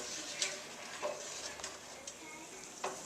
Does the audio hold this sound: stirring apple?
yes